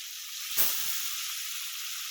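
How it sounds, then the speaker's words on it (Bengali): Koi fish, the climbing perch used in a Bengali tel koi dish, are slipped into hot oil. A sharp burst of sizzling rises at the drop, then settles into a steady, close hiss of frying. "আমি একটা একটা করে কই মাছ তেলের মধ্যে দিয়ে দেবো"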